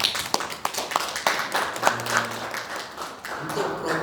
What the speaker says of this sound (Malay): Boleh bagi satu tepukan kepada QSR.